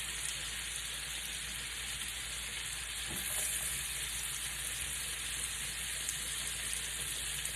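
Onions frying in a nonstick pan, a faint, steady sizzling hiss throughout with one brief soft knock partway through, quiet and even, no voices.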